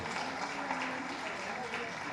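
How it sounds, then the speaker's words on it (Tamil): An audience at a film pre-release event applauds after a song, a faint, even patter of clapping that carries on throughout with a low murmur underneath. "கைத்தட்டுங்க, அருமையான பாட்டு."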